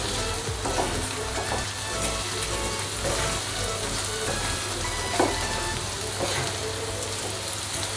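Okra (bhindi) with spices frying in oil in a pan, a steady close crackle and sizzle with scattered pops and occasional stirring scrapes.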